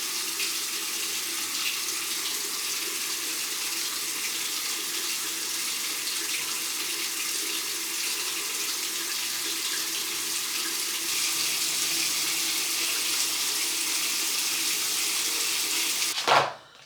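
Water runs steadily from a tap as hands are washed, a constant hissing stream that continues uninterrupted before it is shut off at the very end.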